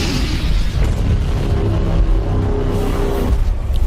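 Heavy cannon fire in a tabletop-inspired strategy video game thunders as a loud, sustained booming explosion, a rolling deep blast with crackling burst texture that fills the whole stretch without pause.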